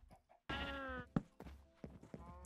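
Baby cows in Minecraft let out a strained, harmonic bleating moo that lasts about half a second, then a scatter of short thuds and softer calls follows at close range.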